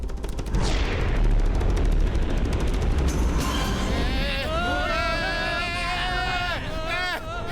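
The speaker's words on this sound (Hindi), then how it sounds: "गाइडेड मिसाइल फायर करो।" Cartoon guided missiles fire amid a dense rattle of gunfire and booming blasts, followed by rising and falling whistling tones over loud continuous action noise.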